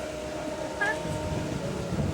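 Inside a train near Mecheda station in West Bengal, a steady rolling rumble and hiss fill the carriage, with a brief high squeal midway and faint voices in the background.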